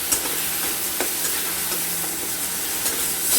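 Onion, garlic, ginger and green chilli paste frying in a pan for chickpea and chicken ghugni: a steady close sizzle with occasional spoon scrapes and stirring taps.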